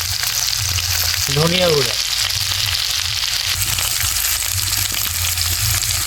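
Ivy gourd (kundru) sizzles steadily while frying with spices in a pan. A continuous loud crackle runs throughout, and a voice speaks briefly over it.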